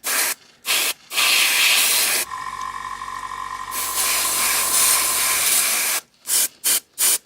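An airbrush spraying Lifecolor camouflage paint onto grey-primed model weapons, with loud close hissing bursts: short puffs, then a long sustained spray, then several quick bursts at the end.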